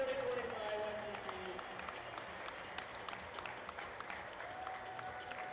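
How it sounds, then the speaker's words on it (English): Faint, distant applause from a crowd honoring the graduating class of 2025 at a league tournament, a soft continuous patter with scattered sharper claps and a few background voices. "Everybody give a round of applause."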